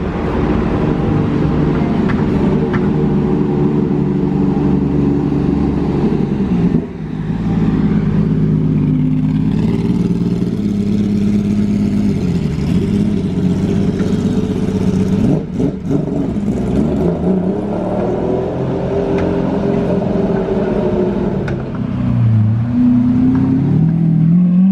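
An Audi RS6 and a Bugatti driving past on a street, heard from the roadside: engine drone swells and fades with revving passes over a steady traffic rumble, with no talking.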